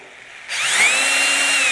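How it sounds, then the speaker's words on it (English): A variable speed power drill spins up from quiet to a steady high-pitched whir, its motor tone climbing as it reaches a good speed and holding there, loud and close. "All right, so this is a variable speed drill."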